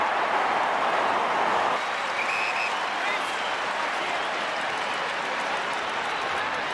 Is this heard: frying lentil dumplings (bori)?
no